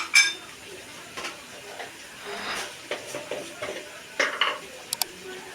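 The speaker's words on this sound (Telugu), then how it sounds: "ఈ ఫ్లేవర్ అంతా బాగా పట్టేటట్టు ఈ కర్రీని కొద్దిసేపు అట్నే వేగనీయాలి" Chicken curry with mint and paste cooks in a pan, heard as scattered metal spoon clinks and scrapes against the vessel over a faint, quiet background sizzle.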